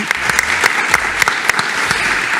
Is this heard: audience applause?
yes